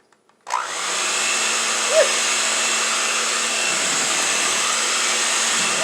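An electric mixer whirs steadily at full speed through thick brownie cookie batter made with eggs and flour, starting abruptly after a couple of clicks and holding a loud, even drone close by.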